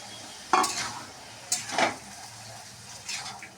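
Potatoes tipped into hot oil for a vegetarian ghugni, with a quiet background sizzle punctuated by three distinct bursts of scraping and clattering as a spoon stirs them against the pan.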